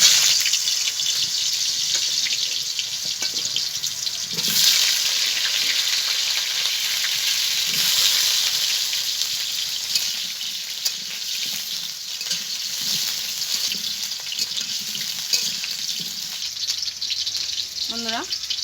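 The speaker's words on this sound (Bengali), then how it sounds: "বন্ধুরা, তেলটা গরম হয়ে গেছে, দেখুন আমি এই আলুগুলোকে ভেজে নেব" Washed, cut potatoes sizzle steadily in hot oil, a loud, close, continuous frying hiss with small crackles that holds for the whole stretch.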